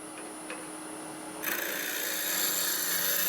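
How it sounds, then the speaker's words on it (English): A wood lathe spins a beehive box as a turning tool cleans off its face, a quiet steady hum that breaks into a brighter, louder scraping hiss as the cut begins and continues. "I've got it remounted on the lathe. What we're going to do is just clean off this face."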